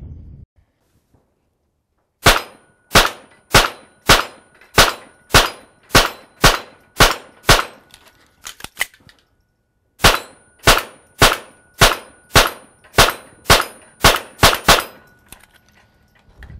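A 1911 pistol fitted with a Nelson Custom .22 conversion unit fires two strings of sharp, evenly spaced shots, roughly a dozen in each string, with a brief pause between the strings.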